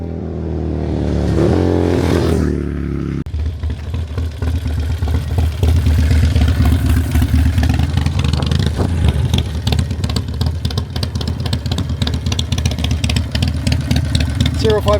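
A performance Harley-Davidson motorcycle burbles at a loud, rough idle, its lumpy, uneven pulses running continuously close by after a brief rev at the start, while voices talk over it.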